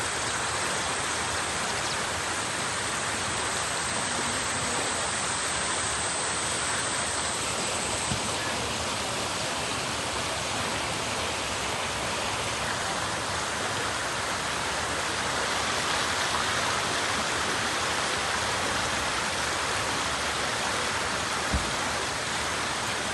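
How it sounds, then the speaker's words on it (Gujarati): Water rushes over a small waterfall in the Dang hills of Gujarat, a dense, steady roar of splashing flow that fills the whole stretch without pause, with light rain falling intermittently. "મસ્ત ખરખર અવાજ આવે છે પાણીનો"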